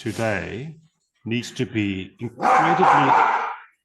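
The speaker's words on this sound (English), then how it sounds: "That's my dog." A dog barks in a single loud burst near the end, right after someone speaking to an online business audience pauses, with his talk continuing around it.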